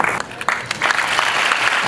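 Applause from an audience at a drug awareness event held for schoolchildren, a steady wash of clapping with a few sharper claps standing out, continuous and fairly close for about two seconds.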